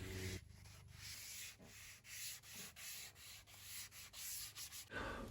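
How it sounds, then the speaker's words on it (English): Sandpaper rubs on metal roof rack bars from a first-generation Toyota Sequoia in rhythmic back-and-forth strokes, close and steady, about a dozen passes with short gaps, and no talk. "I then took my sandpaper and sanded each of the middle bars as well as the roof rack pieces themselves."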